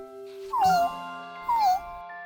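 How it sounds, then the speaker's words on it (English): A young cartoon kitten gives two short, plaintive meows about a second apart, each rising then falling, over a soft sustained musical background. "His job was to watch Professor Wiseman's new kitten, Lucky, who was too young to take care of hi"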